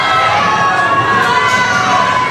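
Crowd at a powerlifting meet cheering and shouting loudly and continuously, with excited yells rising over the sustained roar.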